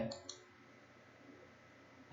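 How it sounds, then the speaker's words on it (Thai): A computer mouse clicks on the Start button of a Windows computer. A few faint, sharp clicks come near the start and one right at the end, with quiet room tone and a faint voice in between. "นี่คือวิธีที่3นี่ให้ท่านเลื่อนเมาส์มาปุ่ม Start แล้วกดขวาใส่"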